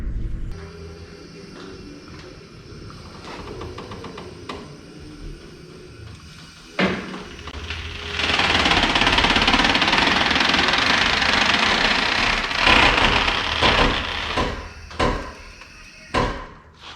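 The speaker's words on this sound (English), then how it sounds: "that's how you jack up the rear of a C4 Corvette with a floor jack" A floor jack raising the rear of a C4 Corvette, with a steady run of mechanical clatter and hissing that swells loud and sustained midway, framed by intermittent knocks and clunks close by.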